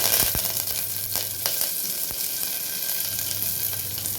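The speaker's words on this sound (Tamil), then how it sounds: "கருவேப்பிலை போட்டுக்கலாம்." Curry leaves crackling and sizzling in hot oil while tempering pumpkin sambar, a dense continuous spatter with sharp pops bursting through, close and loud.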